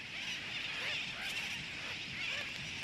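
Dense colony of sooty tern seabirds on Christmas Island in the Central Pacific, a continuous wash of overlapping calls and chatter from countless birds, steady and busy throughout with no single call standing out.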